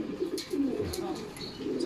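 Racing pigeons arriving at a loft during a race, soft repeated cooing and bird calls close by with a low steady murmur of background noise throughout.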